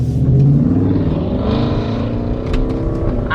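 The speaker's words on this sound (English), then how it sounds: "This car's turning, Jules." A car turning into an intersection rumbles past nearby, its engine droning steadily with a shifting tone, heard from inside a Tesla with no talk.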